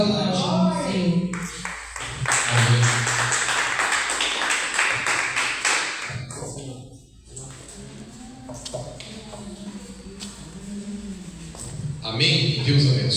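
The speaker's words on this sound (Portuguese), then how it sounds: "uma salva de palmas para Deus." Church congregation claps together in praise to God, a thick burst of rapid hand claps for a few seconds that fades as a preacher talks over the room.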